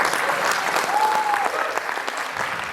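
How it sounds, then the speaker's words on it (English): An audience applauds after a film Q&A session, a dense, steady wash of clapping from a crowd indoors, with a brief faint tone rising and falling in the middle. "one more round of applause for these guys."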